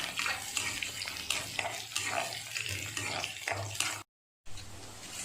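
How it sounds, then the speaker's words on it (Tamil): Shallots and green chillies sautéed in a pan for a Chettinad crab gravy, with close sizzling and scraping stirs throughout and a brief silent break near the end. "பச்சை மிளகாயும் போட்டு நல்லா வதக்கிக்கோங்க."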